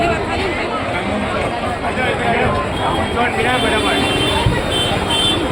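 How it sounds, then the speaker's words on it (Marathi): Thick crowd hubbub fills the night food market at Manek Chowk in Ahmedabad, a continuous loud wash of many overlapping voices and vendor calls with street bustle underneath. "बघा गर्दी किती आहे बघा"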